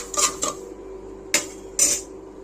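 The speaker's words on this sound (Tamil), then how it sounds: "ஒன்று ஒன்றா எல்லாத்தையும் வறுத்துக்கிடுவோம்." Whole spices such as poppy seeds and fennel are roasted in a pan for a homemade quail curry, marked by four close, distinct metallic scrapes and clinks of a utensil against the pan with quiet gaps between them.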